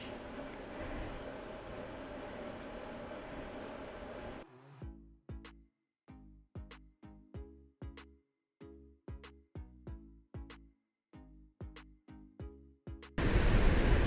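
Chicken masala sautéing in a pan for a parotta salna gives a steady, close sizzling hiss that breaks off for a run of rhythmic, percussive taps and then returns loudly at the end.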